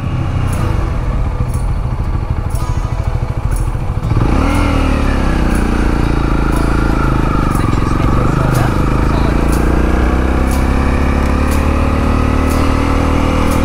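Honda CL 250 Scrambler motorcycle climbing a steep ramp in second gear, its engine loud and close with a steady pulling drone that rises after a few seconds; a voice talks over it.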